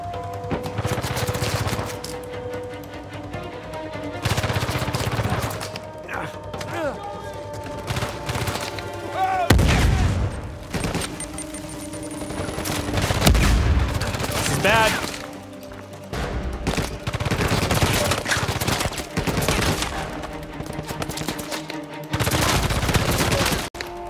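Repeated bursts of sniper and other gunfire in Uncharted 4 on an island, loud shots and booms recurring every few seconds, with someone talking over the fighting.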